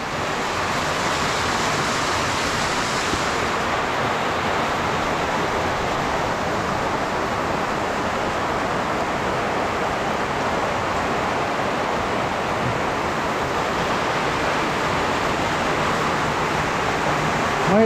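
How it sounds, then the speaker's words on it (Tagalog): Heavy rain pours down in a steady, dense roar that holds at the same level throughout, with no voices. "lumakas na yung ulan."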